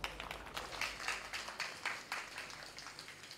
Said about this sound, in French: On va applaudir pour eux, s'il vous plaît